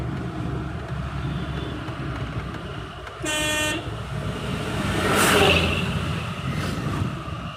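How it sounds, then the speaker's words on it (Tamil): A short car horn toot rises above steady road and engine noise, followed by a passing vehicle swell in traffic. "ஹாரன் அடிச்சு சேஃபாக திரும்புங்க"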